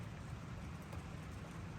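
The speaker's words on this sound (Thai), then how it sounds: "ฝนมันตกทุกคน" Steady rain falls outdoors in a continuous dense hiss with a low rumble underneath, even and unbroken, with no voices.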